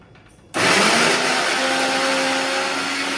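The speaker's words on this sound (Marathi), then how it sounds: "आम्ही आहे ना मिक्सर वाटून घेतला" A kitchen mixer grinder whirs into life after a short quiet moment, grinding ginger, hot green chillies and coriander into a coarse paste; a loud, close, steady motor roar holds for the rest of the clip.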